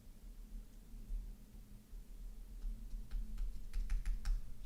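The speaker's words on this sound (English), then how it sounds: "Just mashing all the keys on the keyboard," Computer keyboard typing, faint at first then a burst of rapid, irregular key clicks clustered toward the end, close but quiet over a low background hum.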